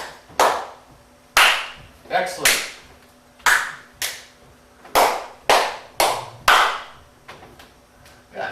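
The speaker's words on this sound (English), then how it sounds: "clap." Group hand claps land one at a time in a steady pulse, about a dozen sharp and close, during a music theory workshop; a voice speaks once.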